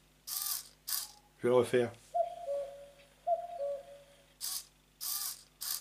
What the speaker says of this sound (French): le capteur ultrason, quand il détecte une présence, eh ben, il lance un son spécial. Là, j'ai mis un coucou